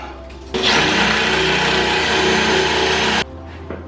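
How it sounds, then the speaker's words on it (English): A power drill bores a mounting hole for a body dryer installation at a care home, a loud continuous whirring grind lasting nearly three seconds before cutting off, with a low hum before and after. "Second hole drilled, moving on to the last hole."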